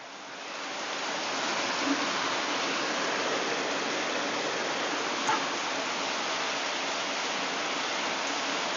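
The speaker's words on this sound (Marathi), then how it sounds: "हा पहा पाऊस या झाडावरती पडणारा पाऊस एकदम तुफान असा पाऊस आलेला आहे" Steady, dense rainfall hisses evenly throughout, a heavy downpour on trees in Pune with a faint brief knock partway through and no voices.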